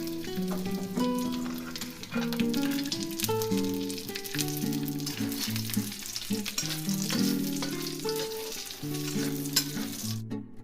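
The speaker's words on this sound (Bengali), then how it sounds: "কড়াইয়ের মধ্যে ঘি দিয়েছি, গরম হয়ে গেছে, কাজু বাদামগুলো দিয়ে দিলাম।" Cashew nuts sizzling in hot ghee in a wok, a continuous crackling fry with light stirring over gentle melodic background music, no talking.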